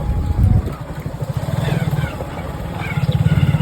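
A motorcycle is ridden along a road, its engine putting out a loud, close, pulsing putter that fluctuates with the throttle, with wind noise over the top and a brief voice mixed in.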